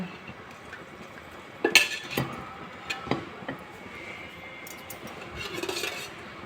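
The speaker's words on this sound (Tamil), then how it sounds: "கடாய் வச்சுக்கோங்க" A wok (kadai) set down on a home kitchen stove gives a sharp metallic clank, then a few lighter clinks and scrapes of metal against the burner, fairly close with quiet room noise.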